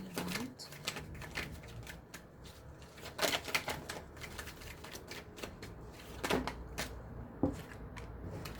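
Tarot cards being shuffled by hand, soft papery riffles and taps with a few sharper clacks at intervals, close and fairly quiet, with a little speech in the background.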